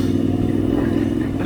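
Moto Guzzi V85 TT motorcycle engine running steadily while riding off-road on a trail, a loud, close, continuous mid-pitched engine drone with slight clatter and no talk.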